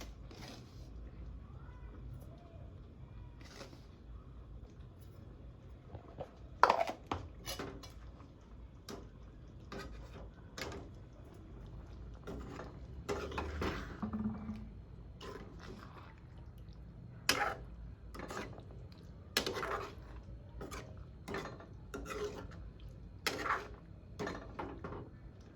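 Spoon knocking and scraping against a pot while egg potato curry is stirred, making faint, irregular clinks and taps scattered over low background noise.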